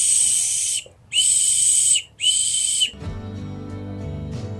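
A pet whistle bought from Zooplus is blown in three long, shrill blasts separated by short pauses, loud and close, then stops, leaving a low background hum.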